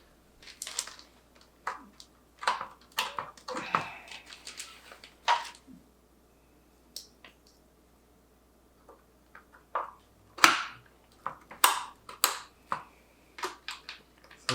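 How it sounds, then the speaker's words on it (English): G.Skill RAM sticks being pressed into motherboard slots during a Ryzen 3900X gaming PC build, giving a series of sharp, close clicks and snaps in irregular bursts with brief pauses between, no talking. "It's always nice to hear that clicking noise."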